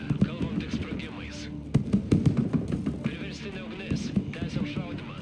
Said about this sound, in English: This artillery really coming in clutch, even though it's only a couple of pieces.